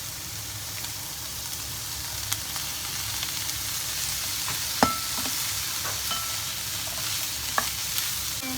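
Asparagus and broccoli sizzle steadily in a hot pan, a soft constant frying hiss with occasional sharp clicks of a utensil stirring against the pan, no voices.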